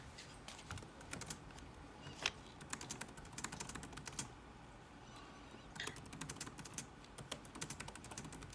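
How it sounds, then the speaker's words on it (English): Soft, quick tapping on a computer keyboard in an office room, irregular bursts of keystrokes with short pauses, fairly faint and with no talking. "I think she's typing something."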